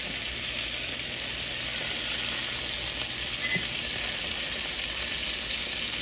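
A flour-coated cod fillet fries in garlic butter, giving a close, steady, even sizzle throughout with one faint tap partway, no talking.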